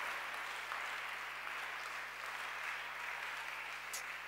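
A church seminar audience applauds to acclaim the king, a dense, even wash of clapping that holds steady throughout at a moderate distance.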